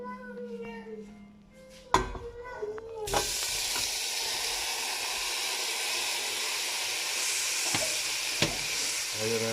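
Smoked pork boucané for a Réunion rougail hits hot oil and its own rendered fat, bursting into a loud, close, continuous sizzle with a few pops after a short stretch of quieter talk.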